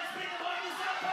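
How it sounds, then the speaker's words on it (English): A boxing crowd at a Beatdown Promotions fight erupts into loud cheering and yelling, a dense roar of voices rising and swelling briefly. "Listen to this crowd, listen to it erupt."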